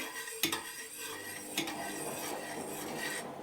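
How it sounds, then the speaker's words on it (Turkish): A spoon scrapes and clinks against a pan while dough is stirred, with two sharp metallic knocks amid soft, continuous rubbing and scraping. "İyicene karıştıracağım her tarafına yayılsın."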